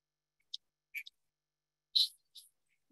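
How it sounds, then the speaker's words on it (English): A Song Sparrow's song plays back as a recording. Brief, bright high chirps come in short separated bursts, fairly faint against silence. "I'm going to play the call, the song of the Song Sparrow, to see if you recognize it."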